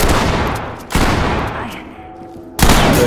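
Loud shotgun blasts in the tactical shooter Ready or Not, two or three heavy booms spaced about a second apart, each trailing off into a fading echo.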